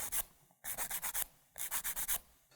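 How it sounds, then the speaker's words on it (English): A sanding stick rubs over a model railway chassis in quick bursts of short strokes, two clusters of rhythmic scraping close up with brief pauses between, and no voices. "we can just use a sanding stick and just tidy up some of these little bits that remain"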